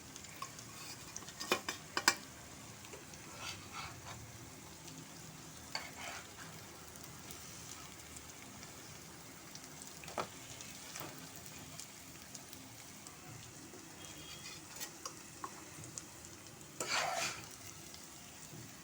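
Fish frying in oil gives a soft, faint, steady sizzle with occasional sharp clinks of a utensil against the pan, which is quiet and a little distant, with no voices.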